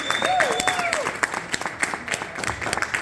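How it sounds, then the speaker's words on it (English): Audience applause at a comedy show in a bar venue, a steady wash of crowd clapping filling the room for about three seconds, with a brief whistle-like tone early on and some voices mixed in. "Give yourselves a round of applause."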